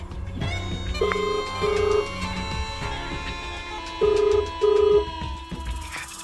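A telephone rings in two paired bursts, each with two short electronic rings, with a pause between the pairs, heard fairly close against a low background hum.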